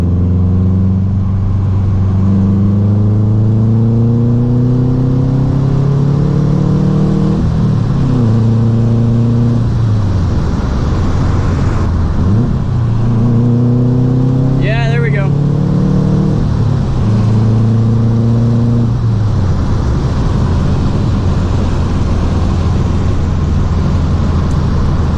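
A Subaru WRX accelerates hard through the gears, its engine droning loudly and rising in pitch in repeated pulls, each broken by a brief dip at the shift, with some faint talk mixed in.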